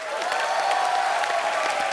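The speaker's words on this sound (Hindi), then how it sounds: "तो जोरदार तालियां हो जाए" Studio audience applause on a Hindi comedy show fills the room, a dense, steady clapping from a crowd that holds at full strength for a couple of seconds.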